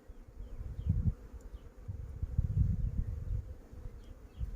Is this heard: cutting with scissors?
no